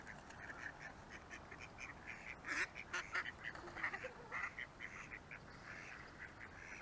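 Ducks quacking nearby in a steady run of short nasal calls, several birds overlapping, fairly quiet and heard without talk.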